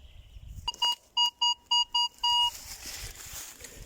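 A metal detector gives a quick run of six sharp electronic beeps, the last one held longer, loud and close, followed by faint rustling.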